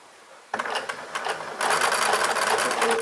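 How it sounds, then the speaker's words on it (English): A sewing machine stitches pillowcase fabric, back-stitching at the end of a seam and then running off the edge. It starts abruptly after a short quiet lead-in as a close, steady mechanical whirring, then grows louder and denser partway through. "reach the end, do a few stitches back, and then go all the way off the end"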